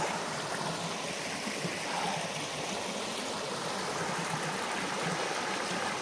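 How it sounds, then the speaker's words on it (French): A small stream flows steadily near an old ruined village, a continuous broadband rush of water, close and even throughout with no voices. "devant ce petit ruisseau"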